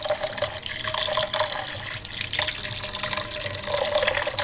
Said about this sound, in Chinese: 这里面直接加水就是